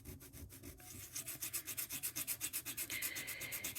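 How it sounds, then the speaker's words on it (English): Embossed paper is sanded down by hand in quick, even back-and-forth strokes, a close, steady rhythmic scratching with no voices. "Now that's all I did, was I just sanded it down"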